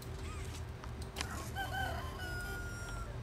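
In Poppy Playtime Chapter 3, a rooster's cock-a-doodle-doo rises out of a low droning ambience, a single fairly faint crow with no one speaking.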